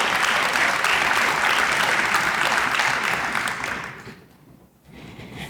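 Audience applause at a high school awards day ceremony, a dense steady clapping from a large crowd that fades out near the end and then briefly swells again.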